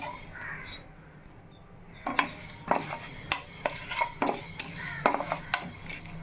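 A spoon scrapes and clinks around a pan as masala is stirred and roasted over low heat for prawn pickle, a series of close metallic strokes over a faint background hiss.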